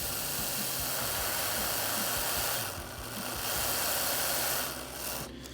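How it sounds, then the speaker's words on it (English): A 2005 Ford GT slot car model's small electric motor runs steadily with a loud, continuous whirring hiss that swells and eases slightly, heard alone. "Let that run a little bit. Let's get that motor warmed up."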